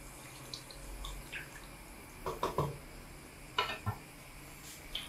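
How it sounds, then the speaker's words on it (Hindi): Slightly more than a litre of water goes into a pot of rice and peas for matar pulao, with intermittent splashing and pouring bursts over quiet kitchen background. "ये तकरीबन 1 लीटर से थोड़ा सा ज़्यादा था, 1-2 कप ज़्यादा होगा, इतना मैंने इसमें पानी डाल दिया।"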